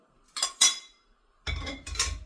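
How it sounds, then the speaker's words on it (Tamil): Roasted spices and chillies for plain rasam tipped into a vessel: two short bursts of metallic clinking and clattering close by, separated by a quiet gap. "இதை இப்ப நான் ஒரு பாத்திரத்துல போட்டுட்டேன்."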